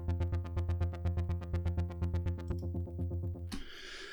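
A Diva synth patch blending triangle and saw waves with a touch of delay, playing a steady run of plucked, evenly spaced notes that ends in a brief noisy wash.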